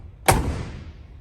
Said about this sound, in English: Show you how nice these doors shut.